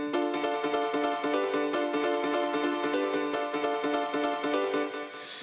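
A fully processed piano part, effects switched back on, plays steady repeated chords with a bright, dense attack on each strike, loud and continuous over a background pad, no talking.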